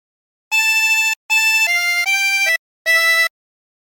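A Wellerman phrase on a chromatic harmonica: four clean sustained reedy notes with steady pitches, the second pair running together, then a short gap and a final held note, played alone and fairly loud.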